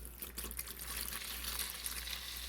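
Water pours steadily into a bowl of seasoning for a competition-style smoked chicken rub, a soft continuous trickle and splash over a low hum, fairly quiet and close, with no talking.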